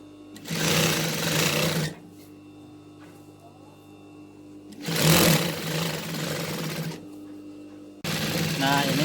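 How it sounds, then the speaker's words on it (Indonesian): A sewing machine stitches the back panel of a Dayak Kenyah ethnic costume in three loud, steady whirring runs, separated by short pauses with a low background hum. "Nah, ini adalah menjahit bagian belakangnya."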